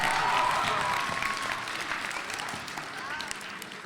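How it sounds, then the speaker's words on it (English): An audience at a student spoken word poetry competition for grades 11 and 12 applauds the poets, with dense, steady clapping that is loud at first and slowly fades. "let's give a huge round of applause to all the poets that performed today"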